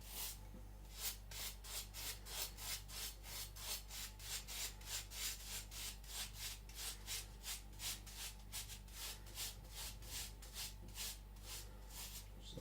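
A Sakon Ryuga high speed steel gyuto knife is ground against a Shapton Glass 220 whetstone in steady back-and-forth strokes, each a close, gritty rasp in an even rhythm of roughly two per second.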